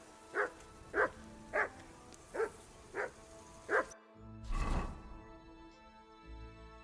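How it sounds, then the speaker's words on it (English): A dog barking in Kingdom Come Deliverance 2, six evenly spaced sharp barks close by, followed by a muffled thud and a low rumble. "Call off that mutt of yours!"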